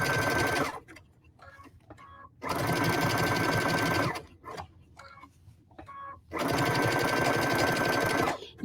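A sewing machine stitches felt for a hexagon candle mat, running in three loud steady bursts of rapid mechanical whirring with quiet pauses between.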